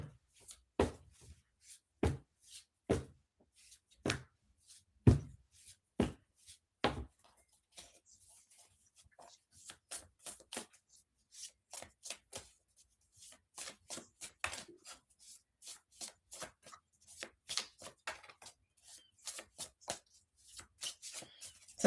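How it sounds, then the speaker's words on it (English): A tarot deck is shuffled by hand up close. It starts with a run of crisp, evenly spaced slaps, then turns into a busier, irregular stretch of riffling and card taps, all fairly quiet and without talk. "Sorry, trying times, extra shuffling."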